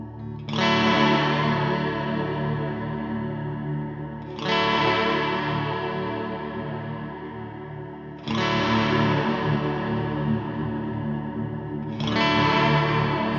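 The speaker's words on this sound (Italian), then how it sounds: "In questo momento sto lavorando sul secondo Deep Chorus, posto in coda rispetto al primo." A sound processed through two stacked Deep Chorus effects on an Eventide Eclipse, leaving a long reverb tail: four swelling, shimmering chorused tones, each starting sharply and decaying slowly, with no talking.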